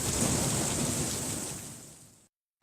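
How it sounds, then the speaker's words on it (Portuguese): Heavy rain pours down during a storm in São Mateus, a dense, loud, steady hiss that slowly eases before cutting off abruptly. "mandou vídeo do momento que a chuva caiu forte em São Mateus"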